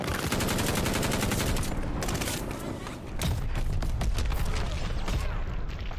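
A full-auto M1916 marksman rifle fires in Call of Duty Vanguard, a loud, dense, rapid burst of gunfire that runs almost continuously with a brief dip partway through.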